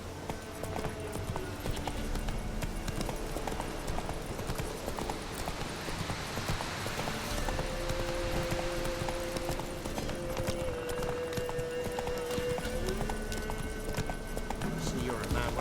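Roach, a horse in The Witcher 3, clip-clops along at a steady pace under continuous game ambience, music and a brief spoken line.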